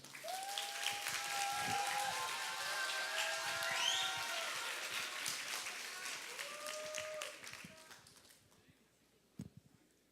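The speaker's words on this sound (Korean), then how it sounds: "박수로 맞아주세요" Congregation applause at a Korean church's summer Bible school and retreat report service, greeting a high-school student speaker. Steady, fairly quiet clapping mixed with voices fades out toward the end.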